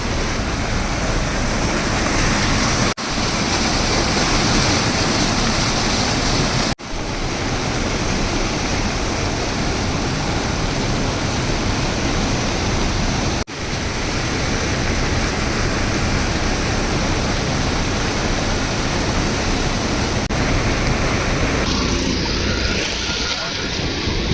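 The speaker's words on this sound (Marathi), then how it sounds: "फक्त एकाच दिवसात भीमा नदीला एवढं पाणी आलेलं आहे" Floodwater of the swollen Bhima river rushes loudly and steadily after heavy rain, a dense continuous roar close by with a few sharp breaks.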